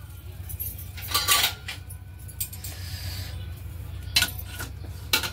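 A cooled pressure cooker, after three whistles with mixed sprouted legumes inside, has its lid twisted open in a home kitchen: scattered metallic clinks and scraping knocks, fairly close, over a steady low hum with no talk.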